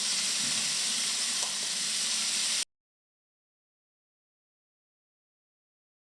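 Peppers frying in a hot pan with onion just added give a steady, close sizzling hiss for about two and a half seconds, then stop abruptly into silence.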